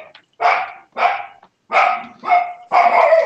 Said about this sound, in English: The dog sounds like it's winning.